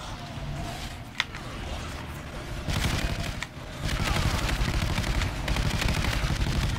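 Gunfire in Call of Duty Ghosts Extinction, with rapid bursts of shots and sharp cracks over a dense, continuous battle din that swells louder in the second half.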